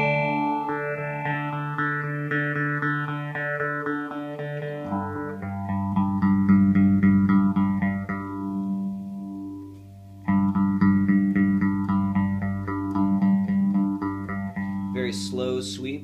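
Electro Harmonix Bad Stone phaser pedal on electric guitar, rate and feedback turned all the way down, giving a slow, gentle sweep over sustained chords that rise and fall in repeating waves, loud and close with no voice.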